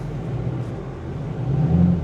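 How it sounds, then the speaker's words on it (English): A 2011 Chevy 3500 pickup truck exhaust rumbles from inside the cab while driving, a low steady drone that swells slightly louder toward the end, with no talking. "The exhaust on this thing sounds so good."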